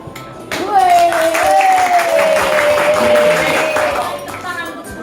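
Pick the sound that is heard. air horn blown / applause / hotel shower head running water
applause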